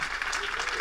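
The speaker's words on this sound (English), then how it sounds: "Big round of applause" Audience applause for a guest author named Laura at the Music Box Supper Club in Cleveland, a short burst of dense, steady clapping throughout.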